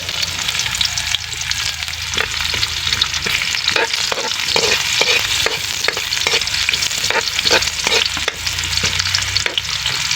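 Onion frying with garlic in a pan gives a steady, close hiss of sizzling oil, broken by regular scraping and clicking as it is stirred.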